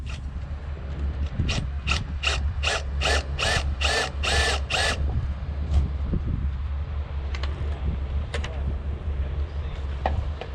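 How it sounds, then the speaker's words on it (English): A series of short, rhythmic rasping bursts from a drill boring a hole in a sailboat's metal mast, close by, followed by quieter scraping and handling noises against a steady background hum. "we will get to drilling out this hole"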